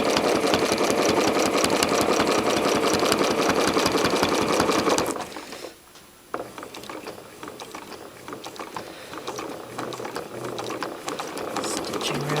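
Sewing machine crosshatch stitching around an appliqué: a steady, fast, close mechanical chatter runs for about five seconds, stops briefly, then resumes more quietly with a rougher, uneven whir.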